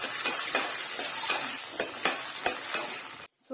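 Garlic and shallots sauté in a pan for a Tamil-style garlic curry, a steady close sizzle broken by regular scraping strokes of a spoon stirring, before a sudden cutoff.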